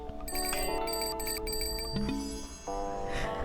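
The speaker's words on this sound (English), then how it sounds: "We have some bikes with bells on them." Bicycle bells chime in bright, overlapping rings from bikes decorating the Tiny Bookshop video game scene, layered over soft background game music.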